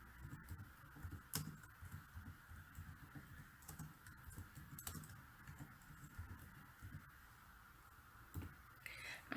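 Soft, quiet clicks of a computer keyboard and mouse while an error alert message is typed into Excel, a light irregular patter of keystrokes close by with no talk.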